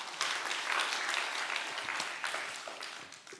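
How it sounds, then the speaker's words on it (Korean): Congregation members at a church seminar applaud in a thick, sustained burst that holds steady for a few seconds, then begins to thin out toward the end. "예, 뒤에 100명 박수치고."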